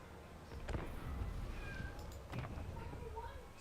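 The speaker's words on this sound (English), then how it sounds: "I hear kitty" A pet cat named Bilbo meows several short, fairly faint calls indoors, under a low game soundtrack and some nearby talk.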